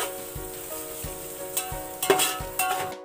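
Chicken mix for biryani sizzles steadily in a hot pan, with a constant frying hiss broken by regular scraping stirs and a few sharper clatters, close and loud.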